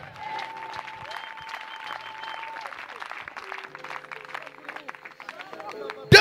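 A church congregation applauding during a French-language revival crusade service in Lambaréné, a sustained, dense clapping from a crowd with voices and cheering mixed in, fairly even throughout before a sudden louder burst at the end.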